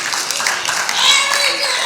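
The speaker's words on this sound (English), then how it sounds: "Clap it up for Jerry, y'all" A school audience at Columbus City Preparatory applauds a student, a steady wash of clapping from many hands that swells slightly midway, with voices mixed underneath.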